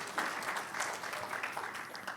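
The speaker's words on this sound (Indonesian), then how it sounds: "Tepuk tangan yang lebih meriah bagi Tuhan Yesus." Church congregation applauding during a Sunday afternoon service, a sustained round of mixed hand claps from many people, moderately distant and even, without speech over it.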